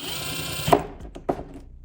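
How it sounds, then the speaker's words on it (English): A power drill whirs for a moment, stops, then gives two short bursts as it drives a catch can fitting on a Hyundai Elantra N, close and fairly quiet. "I cheated, I put this on a drill."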